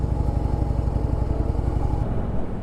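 A 2014 Harley-Davidson Breakout motorcycle pulls away with its V-twin thumping in a fast, even, loud rhythm close by, and the engine note shifts and thins as it moves off.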